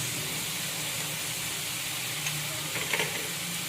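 Chicken spring roll filling stir-fries with soy sauce and chili sauce, giving a constant close hissing sizzle, with a few soft scrapes and taps of a utensil near the end.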